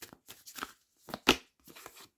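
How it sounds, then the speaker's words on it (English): A deck of oracle cards gets shuffled by hand in quick bursts of riffling, slapping and sliding, one sharper snap near the middle, close and fairly quiet with short pauses between. "let's just shuffle these to see if it comes out again"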